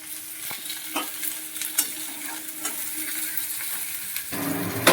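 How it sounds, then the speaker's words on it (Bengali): Cauliflower pieces fry in a pan with a continuous close-up sizzle, broken by sharp scraping taps as they are stirred, and no one speaks. "কপিগুলো লাল লাল করে ভেজে নিয়েছি"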